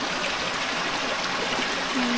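Water flows steadily from a giant tree, a close, continuous trickling rush that stays even throughout, with no voices.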